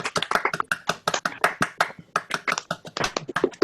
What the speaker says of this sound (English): let's applaud Professor McTee,